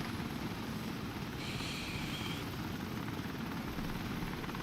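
A transport helicopter in the game Wardogs gives off a steady, dense rotor drone close by, holding at an even level for the whole stretch, with a brief higher whine rising in the middle.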